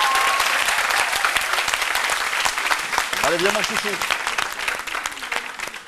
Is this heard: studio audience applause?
yes